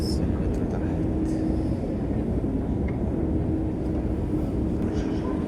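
A Moscow metro train rumbles steadily below the station, a dense low roar that fills the whole stretch, with a faint voice briefly audible over it.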